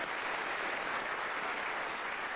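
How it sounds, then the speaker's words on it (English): Applause from an audience at a marketing talk, a dense, even roar of many hands clapping at once that stays loud and steady throughout the short stretch. "Round of applause for Alice."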